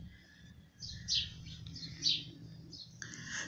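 A tiny fallen ground-dove chick (coquita or tortolita) out of its nest gives a few thin, high chirps, soft and close, with a low background hum.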